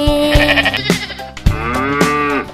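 A goat bleats loudly and close by in several drawn-out, wavering cries, one after another with short pauses between them.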